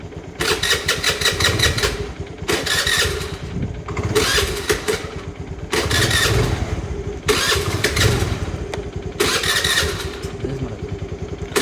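A motorcycle engine turns over and fires repeatedly, mid-pitched and close, with bursts of revving between lower idling stretches, on a friends' day trip to Kunigal Betta.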